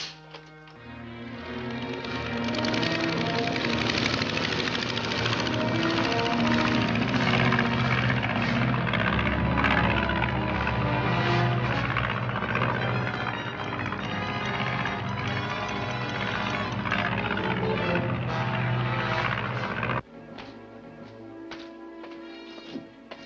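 A small patrol plane drones loudly overhead as a radio-serial sound effect, its propeller engine roaring steadily for about twenty seconds before cutting down to a quieter rumble with a few taps.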